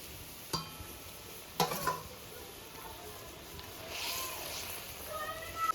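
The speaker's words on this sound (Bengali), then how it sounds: "মাছগুলো দিয়ে দিচ্ছি।" Rohu fish pieces fry and get stirred in a pan, a soft low sizzle broken by a few sharp scrapes and clinks of the utensil against the pan. Speech is heard faintly underneath.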